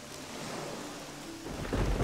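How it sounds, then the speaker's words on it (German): Steady rain pours in the video game Risen 2, and a low rumble of thunder swells near the end, loud and close, with no voices over it. "Scheiß Regen, halt's Maul"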